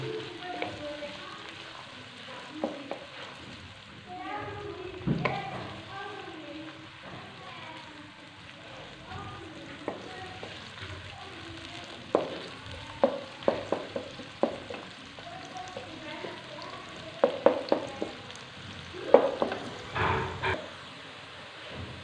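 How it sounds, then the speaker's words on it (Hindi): Onions frying in hot ghee, a continuous sizzle and crackle with scattered stirring clatters and pops throughout. "अब इसके अंदर शामिल करेंगे हम प्याज, और प्याज को हम अच्छे से फ्राई करेंगे।"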